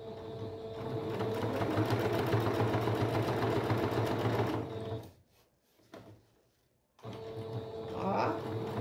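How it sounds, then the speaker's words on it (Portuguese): A sewing machine stitches folded fabric scraps into a rug with a fast, steady mechanical whir. It runs for about five seconds, stops briefly, then starts stitching again. "vocês escolhem aqui um lado e vamos costurar"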